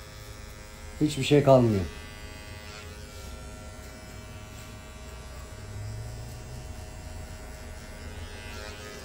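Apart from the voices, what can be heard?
electric hair clipper cutting a mid fade haircut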